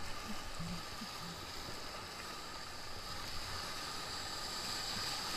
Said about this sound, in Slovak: A veľká vlna.